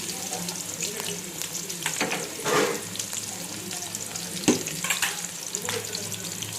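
Sliced onions and green chillies fry in oil in a pan, making a steady close sizzle broken by bursts of stirring and scraping.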